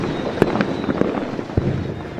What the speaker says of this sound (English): Do away with the expensive fireworks and go digital.